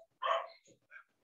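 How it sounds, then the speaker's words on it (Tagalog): A dog barks loudly nearby in a short burst of barks, followed by a softer, briefer yelp, with quiet between. "Naririnig pa ba ako o malakas yung aso?"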